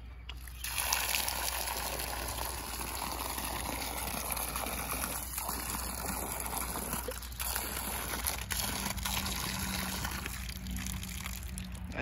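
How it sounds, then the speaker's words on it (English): Water gushing and trickling steadily from a hose or can while watering plants outdoors at a park, a continuous close wash of liquid running under faint background noise. "we love washing or watering plants"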